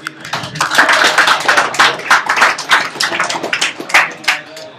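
An audience claps at a live Emacs Rocks! talk at the WebRebels conference, a dense, steady burst of many hands that holds for several seconds, close and loud, with no voices rising above it.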